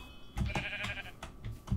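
Sheep in the Minecraft video game bleat in several short, nasal calls spaced across the moment, fairly close and clear over faint background noise.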